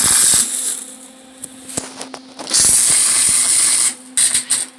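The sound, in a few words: welding shock mounts onto buggy metal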